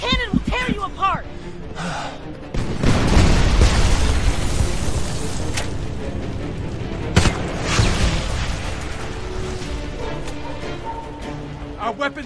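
Heavy cannon fire and explosions from the Homefront video game, with deep booming bursts and a dense rumbling battle din filling most of the stretch, a sharp blast near the middle, and shouted voices mixed in.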